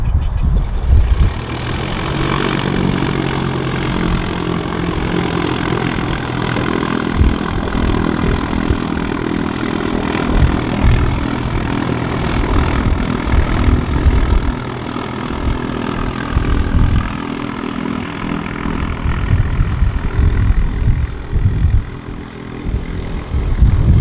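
A propeller aircraft lands at Manchester City Airport, Barton, its engine droning steadily and fairly loud throughout, with a low rumbling texture and wind noise underneath.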